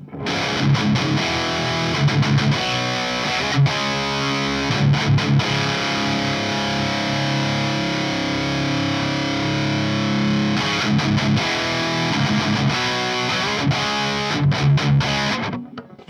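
Electric guitar played through a Lichtlaerm Audio Prometheus distortion pedal, thick saturated chords and riffs ringing out loud and continuous with brief gaps between phrases, no voices.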